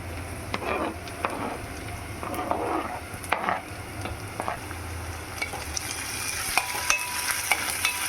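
Onion and green chilli frying in oil in a pan for a wheat-flour onion dosa, stirred with a spatula. Steady close sizzle runs throughout, broken by repeated scraping strokes, with no voices.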